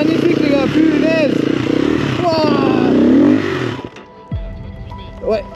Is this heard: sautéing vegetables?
no